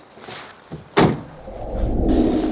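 A truck cab door swung shut after the driver climbs out, one loud close slam near the microphone, followed by a low idling rumble.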